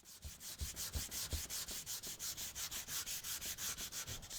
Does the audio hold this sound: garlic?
no